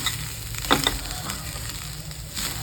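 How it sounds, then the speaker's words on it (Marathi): Dry fruits for fresh-coconut laddoos are sautéed in a pan and stirred, giving a soft, steady sizzle with a few light scraping clinks of the spoon, close up and fairly quiet. "ड्रायफ्रूटही आपले छान असे परतते"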